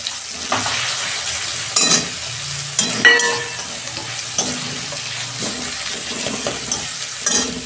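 Cumin powder, coriander powder and turmeric sizzle loudly in a hot pan for a Bengali fish-head moong dal, with steady frying hiss and intermittent scraping stirs of a spoon against the pan.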